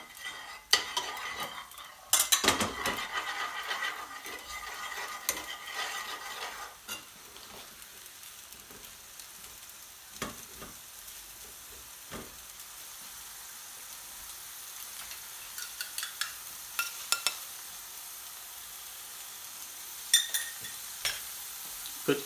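Ginger garlic sizzles softly in a pan for a Madras curry sauce, with intermittent scrapes and clinks of a spoon stirring against the pan, fairly quiet and close.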